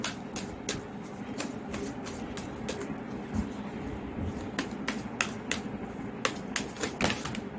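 Tarot cards being shuffled, a fast close run of sharp riffling clicks and snaps, steady throughout and fairly quiet, with no voice over it.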